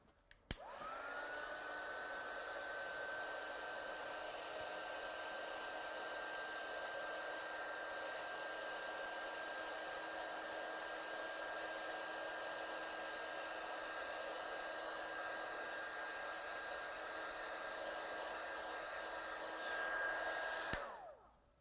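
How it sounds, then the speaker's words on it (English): A heat gun blasts a wet die-cut card for about twenty seconds, a loud, steady blowing whine near the mic that starts and cuts off abruptly, with no talk. "I'm just going to quickly blast it with a heat gun, so sorry if it's a little bit noisy for a second"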